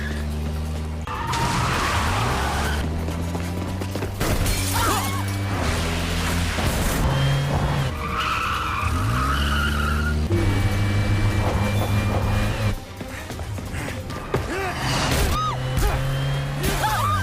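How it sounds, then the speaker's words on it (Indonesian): A car accelerating hard during a chase scene in the 2019 action film Triple Threat, its engine revving loudly and steadily with skids and impacts, while a narrator speaks over it. "Ia pun menyuruh Qian untuk memacu gas mobilnya."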